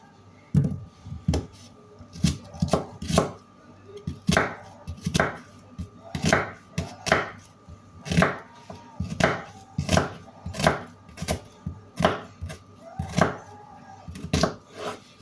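A knife chops onion on a cutting board for karnıyarık, a steady series of close, sharp knocks arriving in quick pairs and runs throughout.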